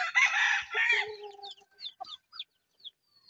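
A year-old gamefowl rooster crows loudly and close, one long call followed by a few shorter trailing notes and quiet gaps.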